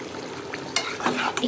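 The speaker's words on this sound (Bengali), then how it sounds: "একটু নাড়াচাড়া দিয়ে দিব।" A beef curry with whole garam masala sizzles in a pot as it is stirred, giving a brief burst of close scraping and bubbling with no voices.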